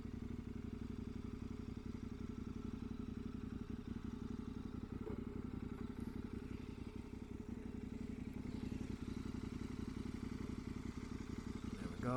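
A KTM 1090 motorcycle engine idles steadily nearby, a continuous low rumble with light mechanical clatter and no revving.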